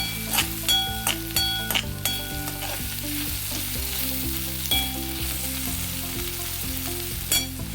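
Garlic, ivy gourd and onion frying in a pan, giving a steady loud sizzle with occasional sharp clinks of a utensil stirring, while background music plays throughout.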